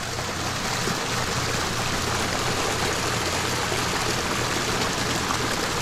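A backyard pond waterfall flowing steadily, a close, continuous rushing and splashing of falling water with no voices.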